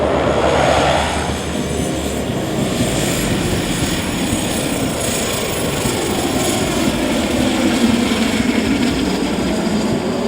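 A propeller aircraft lands on the dirt airstrip of Simo Kimbangu aerodrome. Its engine drones loudly and steadily close by, with broad rushing noise and no voices.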